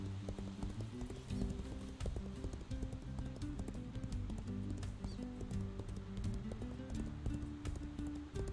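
Horse hooves gallop in a video game, a steady run of clip-clop beats repeating throughout over a busy layer of game sound, with no talk.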